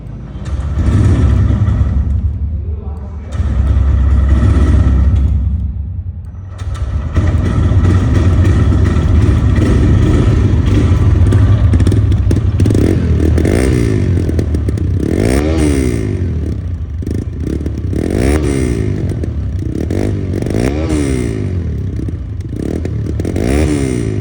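A 2022 TVS Raider motorcycle engine runs close by with a steady rumbling idle, briefly dropping out early, then revving up and down in several rising and falling surges with some mechanical clatter and no voices.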